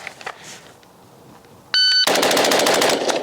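A PSA JAKL rifle with a 13.7 inch barrel fires at a range: a faint early report, a brief electronic timer beep, then a fast, loud string of close gunshots.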